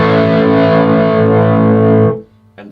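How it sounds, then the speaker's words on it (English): Electric guitar through an amp with the drive turned up, a loud, heavily distorted sustained chord ringing for about two seconds before being cut off, followed by a brief faint pick noise. "As you go to the right, the sound break more and more and more, and then sounds more and more distorted."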